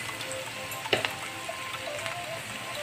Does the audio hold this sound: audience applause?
no